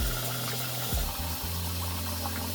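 Water pours into rinsed rice in a cooking pot for plov: a steady, close rushing stream with a low gurgling undertone that runs for the whole stretch without a break.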